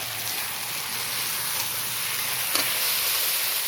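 Kochur loti with shrimp being stir-fried in a pan, giving a steady, close sizzling hiss that runs unbroken throughout, with one brief louder crackle partway through and no talk.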